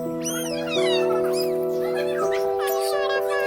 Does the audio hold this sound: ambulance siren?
no